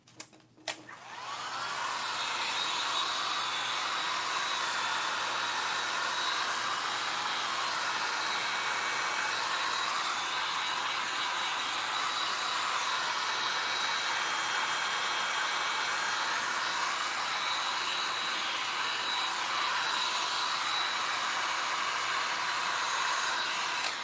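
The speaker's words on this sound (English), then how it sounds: "And now I'm going to use the hair dryer." A hair dryer switches on and blows in a constant loud, steady whoosh for a long stretch, close by, drying milk paint.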